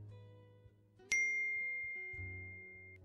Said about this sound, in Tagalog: biglang nag-text sa akin si Daryl